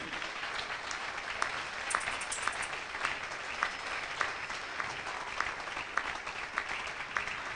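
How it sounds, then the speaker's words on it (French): A church congregation applauds steadily, a dense wash of many hands clapping at moderate distance with sharper individual claps poking through, no speech over it. "On peut applaudir."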